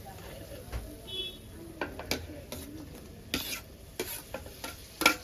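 Browned onions frying in a pan as tomatoes are added, with a steady low sizzle broken by several sharp scraping stirs and clinks of a utensil against the pan.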